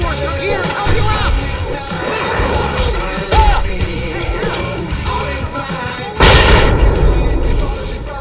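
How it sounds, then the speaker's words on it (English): Fireworks explode in the video game Alan Wake amid a chaotic battle, bursts and crashes over a steady din, with a big loud blast about two-thirds through. "I can set off more of the fireworks from here!"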